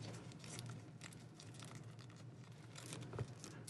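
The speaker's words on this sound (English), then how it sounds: "Are they really inside a plastic bag? Inside the plastic bag? They are." Soft continuous crinkling as a plastic bag holding guitar fret protectors is handled, faint close rustles and crackles with one slightly sharper crunch near the end.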